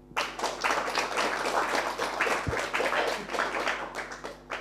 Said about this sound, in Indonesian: Oke, terima kasih. Tepuk tangan.